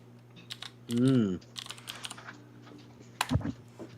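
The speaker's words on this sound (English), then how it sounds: "I'm actually typing it to Linda because Linda's asking" Clicking keystrokes on a computer keyboard come in irregular bursts at close range, and a short tonal hum breaks in partway through. Faint speech sits under the typing.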